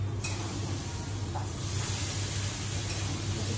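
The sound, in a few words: gram flour water poured into hot tempering, sizzling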